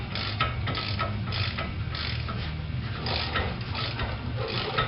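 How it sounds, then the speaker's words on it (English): A 1/2-inch ratchet wrench clicks rapidly and steadily while snugging a hub assembly nut on a Pontiac G6, its dense metallic pawl ticks continuous and close throughout with no talking. "I'm going to go back to my 1/2" wrench here And we're just going to wrap it in place until it's snug"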